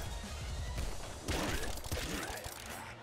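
Assault rifle fire in the top-down shooter Nuclear Throne: a dense, crackling stream of rapid game shots that swells loud about halfway through and keeps rattling to the end, with no voice over it.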